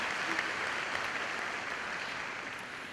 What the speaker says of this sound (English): we can applaud for them